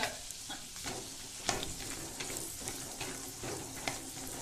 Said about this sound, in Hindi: तो हम इसे करीबन आधा मिनट तक सेक लेंगे मीडियम फ्लेम पे